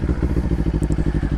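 A Kawasaki Ninja sport motorcycle's engine and exhaust throb loudly and close by, a steady rapid pulsing with a rough, dirt-bike-like edge and faint higher chirps over it.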